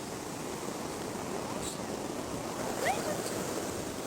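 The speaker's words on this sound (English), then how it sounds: "The waves kept cracking me bad." Ocean waves break on a shore in a steady, even wash of surf, with wind noise on the microphone and a faint distant cry.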